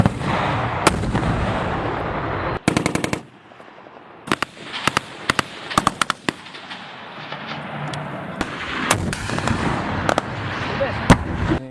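Military weapons and vehicles fire during Kyrgyz army company tactical training: sharp, loud bangs in quick bursts and single shots, with a rapid volley near the start and scattered reports echoing across an open field.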